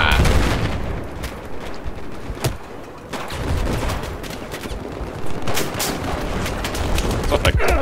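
Battlefield 4 gunfire during a 64-player Conquest round on the Siege of Shanghai map: scattered shots and sharp bursts crack out over a constant rumbling battle din.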